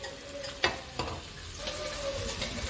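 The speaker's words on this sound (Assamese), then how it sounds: "অলপ পানী দি এইখিনি মছলাটো খুন্দিম" Ginger, cumin and coriander masala paste being stirred in a pan for a fish dish, with two sharp scraping knocks of the spoon and a steady low sizzle; no one speaks.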